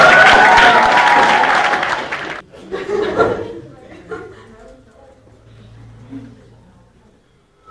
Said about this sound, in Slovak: Zaslúžia si potlesk.